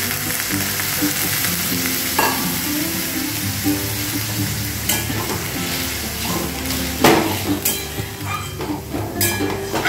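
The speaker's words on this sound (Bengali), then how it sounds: "এবার এতে আমি জল ঢেলে দিচ্ছি।" Water poured into a hot pan of red-fried potatoes and onions for a Bengali aloo pyaz posto, giving a steady loud sizzle with stirring and a few louder bursts, no talking.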